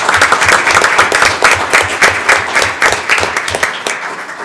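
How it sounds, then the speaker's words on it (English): People at a county school board of education meeting applaud together in a loud, fairly dense round of clapping that thins out toward the end. "And I'm going to applaud that."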